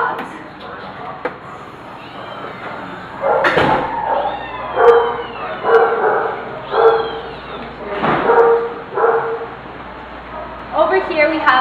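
Dogs barking and yipping in a row of animal shelter kennels, several short bursts that come and go over a hard, echoing room, with a few whimpers and a person talking between them.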